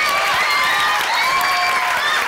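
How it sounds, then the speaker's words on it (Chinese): A studio audience on a Taiwanese variety talk show claps in a dense, steady burst, loud and close, with a host's voice running over the applause. "我们大会要鼓掌"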